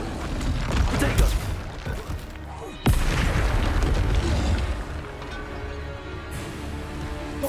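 In a hard-mode Hogwarts Legacy battle, a Bombarda spell bursts with one sudden loud boom that rolls into sustained rumbling combat noise, amid other game effects and a voice.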